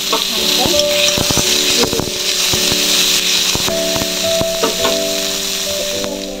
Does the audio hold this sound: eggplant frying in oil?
yes